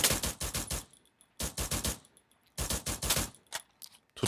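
XM8 rifle gunfire in the Free Fire video game: three loud, close bursts of rapid automatic shots, separated by short gaps, with no talking.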